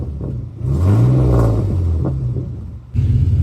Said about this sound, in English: He put it on the limiter, guys.